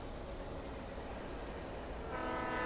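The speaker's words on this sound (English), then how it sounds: "What, a train?" A train passing in the video game Alan Wake, a broad continuous rumble and rattle that grows louder near the end as a horn-like tone enters, alone with no talk.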